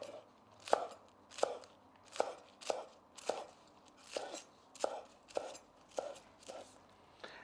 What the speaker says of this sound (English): give these a quick slice on the diagonal or whatever you like